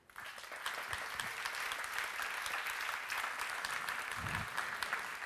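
An audience at a French HR awards event applauds a group of students, a steady, moderately distant patter of clapping that starts abruptly and continues evenly for about five seconds.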